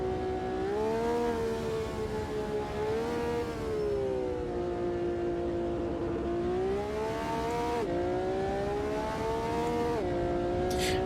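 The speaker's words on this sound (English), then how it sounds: "let's do V12. All right, vintage car on a vintage track" A vintage V12 race car in the Automobilista 2 racing game, its engine droning steadily at high revs with smooth pitch rises and brief dips at gear shifts, loud and continuous throughout with no talking.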